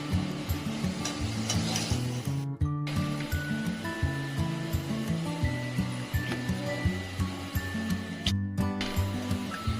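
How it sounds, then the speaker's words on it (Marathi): Green chillies fry in hot oil, a continuous close sizzle and crackle under a steady low hum, with a couple of brief clatters. "तर अशा पद्धतीने आपण ह्या सगळ्या मिरच्या तळून घेऊया."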